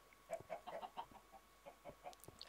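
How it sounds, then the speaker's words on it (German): Minecraft chickens cluck in a quick scatter of soft, faint clucks, a dozen or so short bursts at low volume over a quiet background. "Hühner, sei mal da leiser oben."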